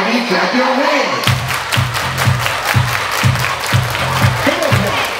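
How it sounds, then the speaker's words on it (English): A middle school prom crowd claps along to dance music, with a regular rhythmic beat of hands and thumping bass, plus shouts and cheering layered over the loud party mix. "Everybody clap your hands."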